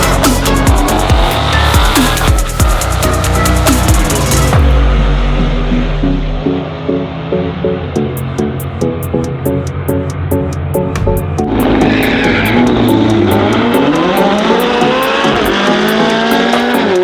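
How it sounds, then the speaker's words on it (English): McLaren 720S with nitrous racing, a loud engine roar with rapid gear changes and a high tire squeal, shifting to a lower rhythmic drone and then a renewed surge, close and dominant without talking. "This McLaren is a McLaren 720S with nitrous."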